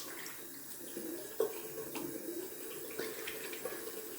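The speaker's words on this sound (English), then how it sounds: "just rinse off my hands" A tap runs while hands are rinsed beneath it, giving a faint, steady stream of water with small splashy surges, heard quietly on its own.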